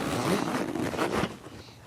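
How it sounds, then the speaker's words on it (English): Two oversized zippers pulled open on a Plano A Series 2.0 tackle backpack, a close, quick ratcheting rasp lasting under two seconds, alone with no voices. "Two oversized zippers."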